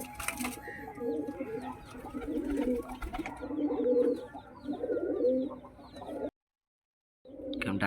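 Pigeons in a loft coo and call in repeated throaty bursts at close range, overlapping one another, before a short silent gap and then more cooing.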